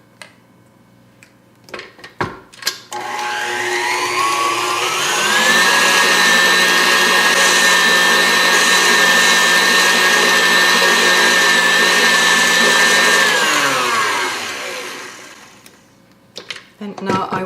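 Electric mixer whirring through quark for a German cheesecake (Käsekuchen): after a few clunks it ramps up to a loud, steady motor whine, holds for about nine seconds, then winds down, with handling knocks on either side.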